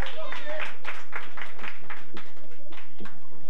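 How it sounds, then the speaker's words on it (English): An audience claps for Kim at a Tuesday night show, a fairly close, uneven run of hand claps with rhythmic bursts lasting a few seconds, mixed with some voices. "let's hear a round of applause for Kim over here"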